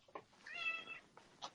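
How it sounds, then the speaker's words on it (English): A cat meows a few times in the background, a soft, fairly faint drawn-out call heard alone without talk. "kitty cat in the background there."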